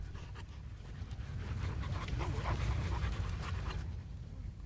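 A domestic dog pants close by in quick, rhythmic breaths that grow slightly louder midway, with a faint whimper and no speech.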